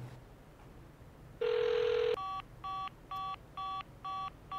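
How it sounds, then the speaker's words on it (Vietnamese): A telephone keypad dials a call: a longer tone, then a quick series of evenly spaced short beeps, faint and close, with no talking. "để gọi điện"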